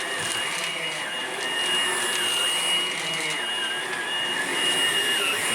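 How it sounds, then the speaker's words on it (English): A Hoover Blade Plus cordless vacuum cleaner runs steadily and loudly up close, a constant whirring motor hum with a high-pitched whine throughout. "so I'm going to vacuum a little bit"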